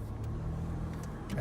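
A car's cabin carries a steady, low engine and road rumble while driving, continuous and even throughout, with no voices.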